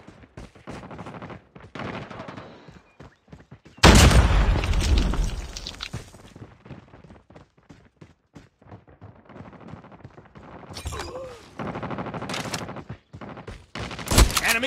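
In a Call of Duty match, a frag grenade goes off with a sudden loud blast near the four-second mark, set among sharp bursts of gunfire and scattered shots that carry on through the rest of the scene.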